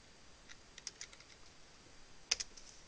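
A number being typed on a computer keyboard: a few quiet, separate key clicks in two short bursts, close and faint, with no talking.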